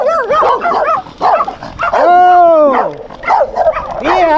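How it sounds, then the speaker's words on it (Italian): A dog barks and yelps outside along a trail during a mountain bike ride in the Parco Ticino countryside, with repeated sharp calls and one long drawn-out howl-like cry, rising and falling across the whole stretch. "C'è un cane fuori."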